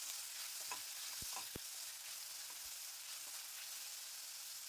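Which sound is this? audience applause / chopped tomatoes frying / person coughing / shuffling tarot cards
chopped tomatoes frying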